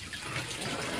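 Fast-flowing water gushing from a hydroponic system outlet, a loud, continuous splashing trickle with no pauses or voices.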